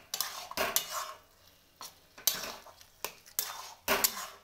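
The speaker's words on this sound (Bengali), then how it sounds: "এইভাবে কিন্তু কন্টিনিউ খুন্তিটাকে নড়িয়েই যেতে হবে" A spatula scrapes and stirs egg and eggplant in a pan in short bursts, each scrape sharp and close, with a soft sizzle between them and no voices.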